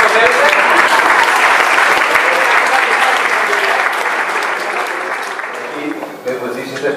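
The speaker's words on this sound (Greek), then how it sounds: "Χειροκροτήστε τώρα αν θέλετε." Audience at a Christmas concert of a variety music orchestra society applauding, loud dense clapping that thins and softens toward the end.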